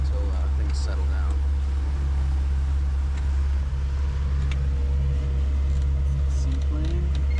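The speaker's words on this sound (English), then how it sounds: "Seaplane." A seaplane engine drones steadily near a marina, a continuous low rumble holding level throughout with faint voices in the background.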